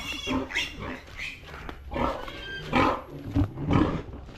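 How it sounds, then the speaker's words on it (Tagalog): A piglet squeals and grunts in loud, rough bursts while it is moved on a farm, several close harsh cries in quick succession. "ililipat na yung biik dyan sa baba"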